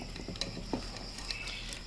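Dried anchovies are dry-roasted and stirred in a pan without oil, with soft scraping and light clinks of a utensil against metal at irregular intervals.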